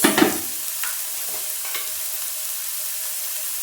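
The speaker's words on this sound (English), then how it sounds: "And you give it a stir." Okra frying in a pan gets a stir, with a short burst of scraping and sizzle at the start, then a steady, fairly quiet frying hiss with a few faint clinks.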